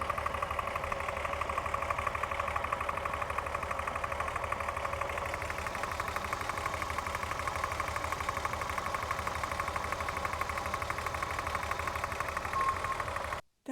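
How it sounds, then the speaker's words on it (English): An engine idles with a steady, rapid mechanical ticking running through its hum, constant and unbroken with no voices. "now there is some bad like tick in the engine"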